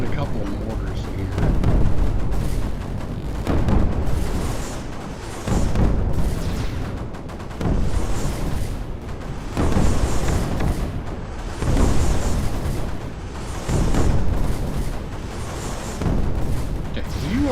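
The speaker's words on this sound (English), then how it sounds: "Throw in a couple of mortars here" Mortar rounds firing in a video game, a series of heavy booming impacts recurring roughly every two seconds, loud and dense, with a voice talking over them.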